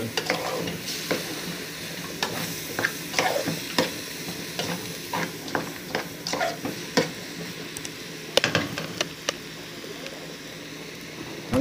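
Spoon stirring a chopped tomato and pepper mixture frying in a pan, steady sizzle with repeated scraping strokes at an even rhythm, close and alone.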